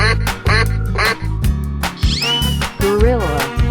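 Cartoonish duck quacks from a 3D animal slide video game, several loud quacks in quick succession over bright game music and sound effects.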